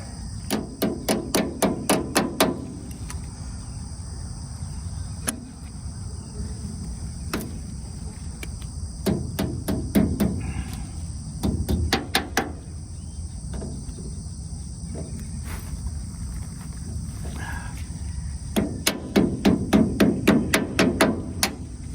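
Metal tapping while a new cotter pin is worked into a hole on a John Deere 24T square baler: clusters of quick, sharp, ringing taps, some single knocks between them, over a steady background hum.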